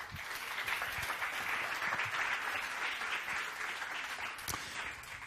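At an automotive environment conference session on workshop waste management, the audience applauds the speakers with steady, dense clapping throughout, a few sharper individual claps standing out near the end.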